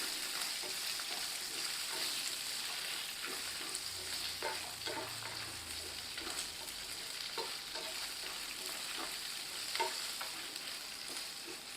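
Fennel and masala ingredients for a chicken kuzhambu spice mix are stirred in a pan without roasting, giving a soft, continuous scraping with light sizzle and scattered spoon taps, fairly faint and steady throughout.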